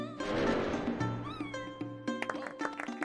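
A cat meows in a long drawn-out call, followed by shorter meows and a few scattered small noises, fairly close and with no talk over it.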